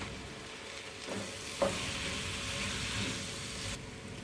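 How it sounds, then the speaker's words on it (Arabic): Spiced food frying in a pot and being stirred, with a steady close sizzle, a couple of spoon scrapes and knocks, and no voices. "بعطيهم تقليبه مع بعضهم"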